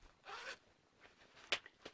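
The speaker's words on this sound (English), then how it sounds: "You open your zipper" A zipper on a pair of women's straight-leg pants is pulled open in a quiet room: a soft rasping run, then a sharper brief zip near the end, with no talking.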